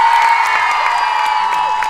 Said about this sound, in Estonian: teeme ühe suure aplausi